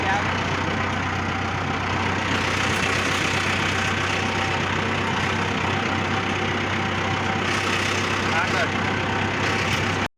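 A tractor engine idles steadily with a low, constant rumble and mechanical chatter, with talk faintly audible over it.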